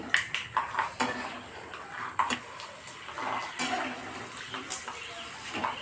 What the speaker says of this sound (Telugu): ఇందులోకి పల్లీలు వేస్తున్నాం ఇదిగో పల్లీలు కొంచెం కొంచెం పల్లీలు